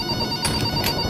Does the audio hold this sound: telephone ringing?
yes